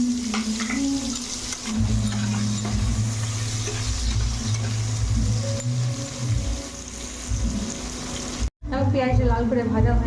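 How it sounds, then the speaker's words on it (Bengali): Chopped onions fry in hot oil for a Bengali fish curry, giving a steady sizzle with stirring scrapes, loud and close throughout, broken by one brief cutoff near the end. "আর পেঁয়াজ কুচি দিয়ে আর পেঁয়াজটা ভালো লাল করে ভেজে নেব।"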